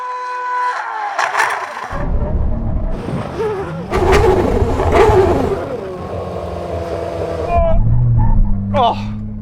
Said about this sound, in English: brake test from 100 miles an hour